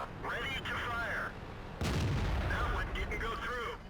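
An AMX CDC French premium medium tank firing its gun in World of Tanks, one loud booming shot that bursts out and rolls away, heard under a voice talking before and after.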